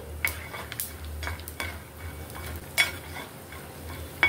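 Soft frying sizzle of spices, dried red chillies and peanuts tempering over medium flame, with occasional sharp clinks and scrapes of a spatula stirring, close by.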